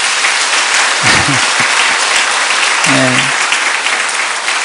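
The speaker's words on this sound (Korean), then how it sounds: "네, 박수로 환영하겠습니다." An audience at a church gathering claps steadily to welcome a pastor, dense applause filling the whole stretch while someone speaks briefly over it.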